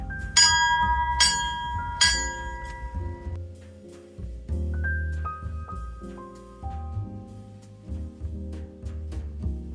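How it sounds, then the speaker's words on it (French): A shrine bell is rung for a wish, with three bright metallic strikes close together at the start, followed by sustained tones that fade, then softer lower ringing. "Et on va sonner la cloche ensemble."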